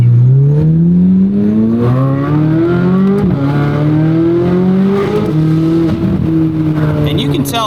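A Chevrolet Corvette C8 Z06 engine pulls hard with the windows down, loud rising revs climbing through gears with brief shift dips between pulls.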